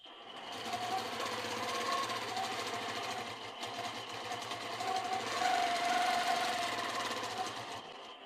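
A sewing machine runs steadily during freehand quilting, a fast rhythmic needle chatter with a low mechanical hum, pausing briefly mid-stitch before resuming and stopping cleanly at the end.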